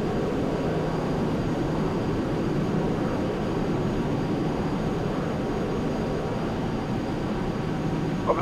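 Jet airliner engines roar steadily during a takeoff roll in a flight simulator game, a loud, even broadband rumble and whine sustained throughout with no voices.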